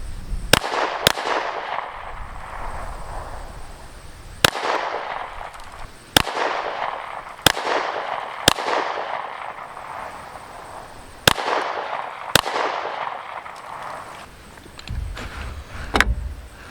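A PSA Dagger pistol firing .45 rounds, about ten sharp, loud reports spaced unevenly over several seconds, each followed by a short ringing decay, with handling noise in between.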